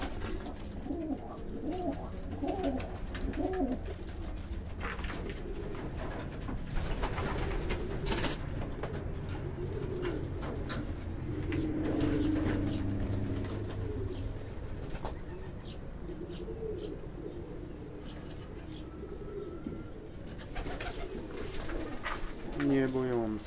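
Jaśniak pigeons cooing nearby in soft, repeated throaty rolls, with a brief flutter of wings, while a person talks intermittently over them.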